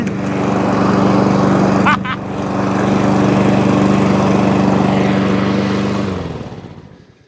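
A Mountfield lawn mower engine fitted with a cheap copy carburetor runs loud and steady with a droning hum, briefly dipping once before winding down toward the end.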